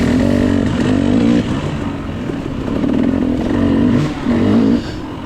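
A KTM 300 dirt bike engine revs loudly and up close during a hare scramble race, pitch rising and falling as the throttle opens and eases off repeatedly.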